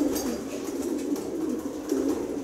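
Racing pigeons in a loft give a soft, continuous chorus of low, burbling coos, with several birds overlapping close by and no talk.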